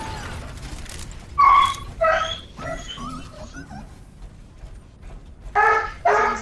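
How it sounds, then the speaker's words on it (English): A dog gives several short yips and whimpery barks close to a microphone during an Overwatch gaming session, in two bursts separated by a quieter stretch, over faint room noise. "Is that your dog?"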